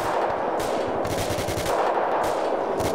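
Rapid automatic gunfire from an M27 rifle in the video game Arma II, a dense continuous burst with repeated sharp reports.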